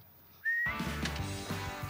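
A single clear whistled note, held briefly and rising slightly, opens a customized Scion xB's door, followed by a burst of louder mechanical and crowd noise.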